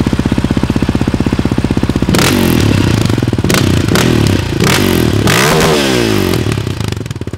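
A Yamaha 700 Raptor quad starts up after a rapid mechanical clatter, then idles loudly close by with sharp revs that rise and fall, blaring and unmuffled.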